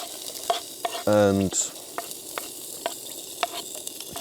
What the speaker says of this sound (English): The oil is ready. And now we want to use we want to start off with the onions.